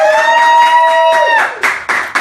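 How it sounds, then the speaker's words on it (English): A man claps for himself, a few sharp hand claps landing near the end, right after a sustained tonal sound. "Since I don't get applause in the room, I'll give myself"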